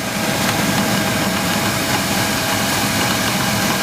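A GMC Jimmy engine idles just after starting, with a knocking fault, a steady dense rumble with rapid ticking throughout, close and loud.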